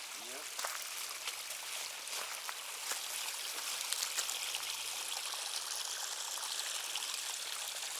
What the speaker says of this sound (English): I love the sound of running water like that.